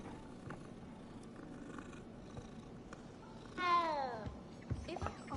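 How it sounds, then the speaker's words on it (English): A cat in the video game Hogwarts Legacy gives a single clear, drawn-out meow near the end, following a stretch of soft purring and quiet ambient game sound. "So many random kitty cats running around."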